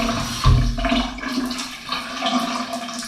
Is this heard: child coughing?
no